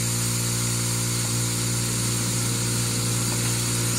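A DeWalt power tool runs on portable power-station output, producing a loud, continuous motor whine and hum at close range with no talking.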